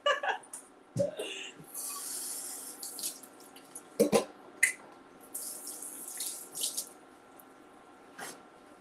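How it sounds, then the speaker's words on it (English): Tap water runs over hands at a kitchen sink, with splashing and a few louder bursts and drips across the stretch and no talk. "let me wash my hands and just put an apron on"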